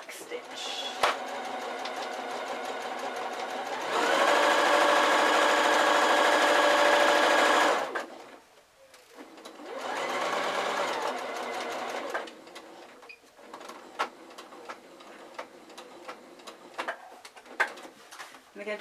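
Sewing machine running down both sides of a fabric drawstring Christmas gift sack channel; two loud steady whirring bursts stand out against a quieter room where a person speaks and pigeons coo.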